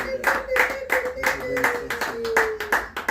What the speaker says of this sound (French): Est-ce qu'on peut applaudir pour la parole de Dieu?